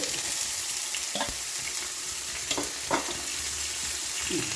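Ginger and garlic frying in a pan for a red snapper curry give a steady close hiss, broken by a few soft scrapes as the spatula stirs them.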